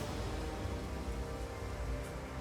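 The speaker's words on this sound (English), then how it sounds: "The rain should go away." Steady rain in the strategy game Total War: Pharaoh, a dense, even wash of falling water with faint rumbling beneath, holding at the same level throughout with no voices.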